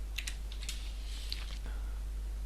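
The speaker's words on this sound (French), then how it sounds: "tapez donc simultanément sur les touches Shift et Print Screen" A few quick, light clicks and taps of keys being pressed on a computer keyboard, close and brief over a low electrical hum.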